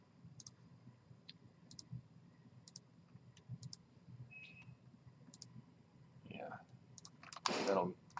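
Faint, sharp mouse clicks repeat at irregular intervals while selecting shapes in design software, with a brief louder burst of handling noise near the end.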